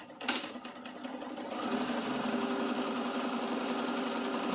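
Sewing machine stitching a 1/4 to 3/8 inch fabric seam: a soft click, then the motor settles into a steady, even whirring hum that runs on continuously, close and moderately quiet.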